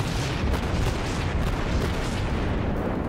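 Naval artillery in the World of Warships game, with shells landing around a Mogami cruiser: a dense, continuous roar of booming gunfire and blasts that stays loud throughout, with no talking.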